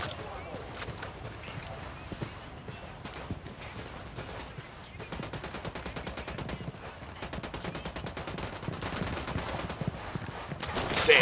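Gunfire in the video game Ghost Recon: dense, rapid bursts of shots crackle steadily throughout and grow louder toward the end, with voices heard over the shooting.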